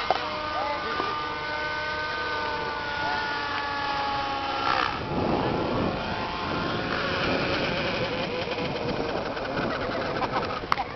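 A Thunder Tiger Raptor model aircraft flies at an aeromodelling meet in La Pampa, its engine a steady buzzing whine that shifts in pitch as it passes, with outdoor ambience and some voices.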